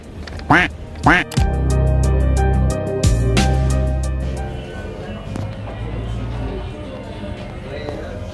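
A small toy duck quacks twice in quick squeaky bursts, close and loud, followed by a sustained tonal sound and scattered background noise as people talk.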